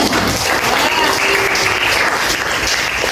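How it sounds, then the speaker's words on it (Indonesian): A classroom full of students claps together, a dense, even burst of applause that stays steady and loud throughout. "Kita kasih tepuk tangan."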